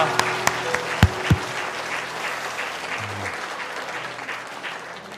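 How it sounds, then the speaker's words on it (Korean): A church congregation at a New Year's Eve worship service breaks into applause, with a few sharp, close claps at the start before a steady, dense round of clapping continues and gradually fades. "우리 박수와 영광 한번 올려드릴까요?"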